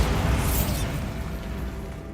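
A Bombarda spell explosion in the Hogwarts Legacy PC game bursts loudly at once, then its rumble decays gradually through a steady noisy tail.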